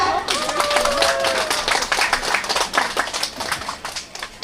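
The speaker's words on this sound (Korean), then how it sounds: "여러분 큰 박수 부탁드립니다" Applause from an audience at a singing contest held at Jungni traditional market in Daejeon, a dense run of clapping that carries steadily for several seconds alongside faint voices.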